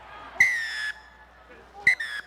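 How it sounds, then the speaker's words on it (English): Two sharp referee whistle blasts at a rugby match, the first about half a second long, the second shorter and split, loud against a faint crowd murmur in the background. "He's blown the short whistle"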